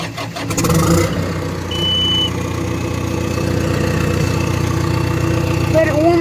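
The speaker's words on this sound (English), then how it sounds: "It's just a Bulldozer startup." A bulldozer engine cranks and catches with a rough burst, then settles into a steady, loud, low idle that runs on continuously with no talk over it.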